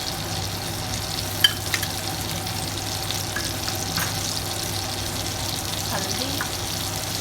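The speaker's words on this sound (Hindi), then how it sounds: "और अब हम इसमें डालेंगे अदरक लहसुन का पेस्ट," Ginger garlic paste frying in a pan with softened tomato, a steady close sizzle with occasional stirring clinks and scrapes, faint and continuous throughout.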